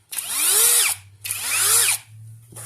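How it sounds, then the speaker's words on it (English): An AliExpress Dewalt DGD805 hammer drill spools up twice in quick succession, each burst rising to a high whine and winding down, close and clear with no talk. "this just spools right up"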